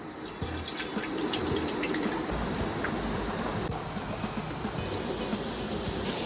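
Potatoes coated in a batter of starch, Cajun seasoning and water fry in cooking oil for a first fry, giving a soft, steady, continuous sizzle with no talk over it.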